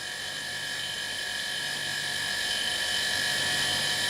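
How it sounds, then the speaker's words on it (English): An electric air compressor runs continuously as it charges up, a steady mechanical hum with a high whine that grows slightly louder over a few seconds. "Let this air compressor charge up"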